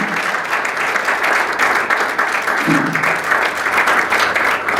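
Audience applause welcoming a guest speaker at a panel event, a steady dense clapping that fills the room throughout at close range, with no talk over it.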